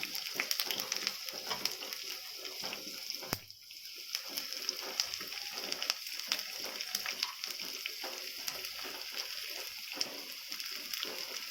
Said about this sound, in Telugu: కొద్దిగా బ్రౌన్ కలర్ వచ్చేంత వరకు మేము ఫ్రై చేద్దాము